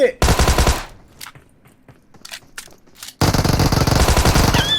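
Automatic gunfire in PUBG Mobile at the Pharaoh's tomb: a loud burst of rapid shots, a quieter gap with scattered shots, then another long, loud, sustained burst.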